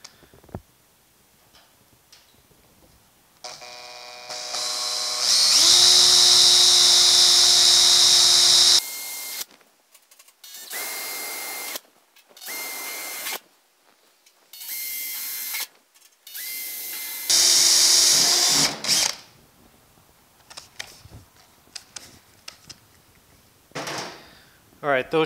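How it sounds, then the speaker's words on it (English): A power drill boring screw holes through a sheet-metal inner door patch panel on a 1950 Chevy truck: loud, sustained whining bursts, then several shorter stop-start runs in a workshop. "So let's just get some holes drilled."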